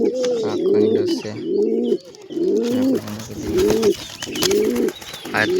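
Pigeons coo close by in a run of soft, throaty, rhythmic calls repeated several times with short pauses, set against faint background noise near a nest with eggs and chicks.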